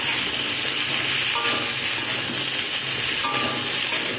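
A pumpkin and Malabar spinach curry bubbles and sizzles gently in a pan while a spoon stirs it with a couple of soft scrapes. The sound stays moderate and close, with no voices.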